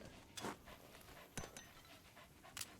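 A dog companion in Metal Gear Solid V: The Phantom Pain pants in three short, breathy bursts, fairly close and alone against quiet game ambience.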